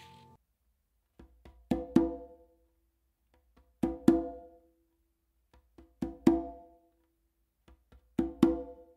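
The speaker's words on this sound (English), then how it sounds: "the first one should definitely be a little bit softer and the second one just a little bit louder" Conga open tones struck in repeating pairs, each pair a softer hit followed by a louder one, for four cycles of resonant, ringing drum notes played alone with no talking.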